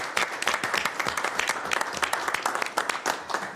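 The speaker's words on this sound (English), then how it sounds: "I think that deserves a round of applause, Jaime." Audience members at a Sacramento Metropolitan Air Quality Management District board of directors meeting clap in a continuous, crackling round of applause, moderately loud, with no talking over it.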